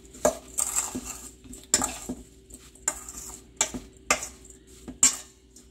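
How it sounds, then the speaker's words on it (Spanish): Sugar being stirred into a strawberry muffin batter with a utensil in a bowl, giving close, repeated scraping and clinking strokes at a steady rhythm of about one per second. "Aquí le vamos a poner este azúcar. Y lo vamos a mezclar."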